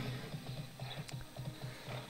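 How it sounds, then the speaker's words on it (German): A horse ridden in the online video game Tera Rising clip-clops along in a steady, rhythmic trot, soft and fairly quiet, with no speech over it. "Wir steigen nochmal auf unser Pferd."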